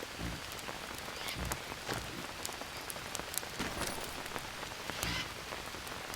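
Steady rain pours in the survival video game Green Hell, a dense, continuous hiss of drops striking surfaces with occasional louder spatters, filling the whole stretch without any talking.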